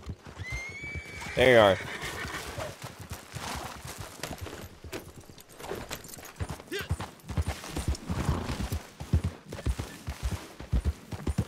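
A horse in an open-world western video game whinnies loudly once near the start, then hooves clop along in uneven steps while someone talks over most of the stretch.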